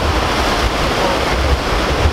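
Waves break on a northern Michigan shore in a loud, continuous wash of surf with buffeting wind noise across the microphone, close and unbroken.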